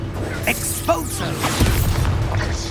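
Expulso spell explosion in the Hogwarts Legacy video game, a loud close blast with a deep boom and crashing, crumbling debris that settles into rumble, amid other game whooshes and impacts.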